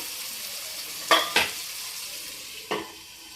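Tomatoes cooking in a pan, stirred with three sharp scraping strokes against the metal, close and distinct over a soft background hiss, with no talking.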